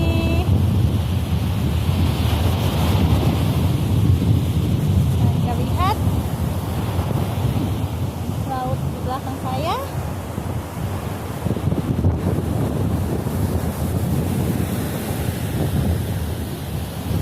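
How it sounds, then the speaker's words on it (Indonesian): Strong wind buffets the microphone over the constant roar of ocean waves along a beach in Belinyu, Bangka, with a person speaking through the noise. "Anginnya kencang, kencang sekali di pinggir sini."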